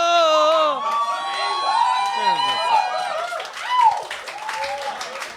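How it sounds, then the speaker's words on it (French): Studio audience at a French-language comedy podcast breaks into applause and cheering, with whoops and laughter mixed in, while a voice talks over the crowd noise throughout. "Ce monde-là va applaudir de n'importe quoi."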